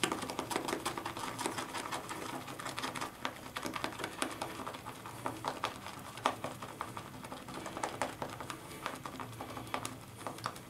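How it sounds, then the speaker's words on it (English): A shaving brush swirled through artisan shaving soap to build lather, a steady close wet patter and squelch without talk. "now we're starting to get lather type of suds, so it's getting to that point."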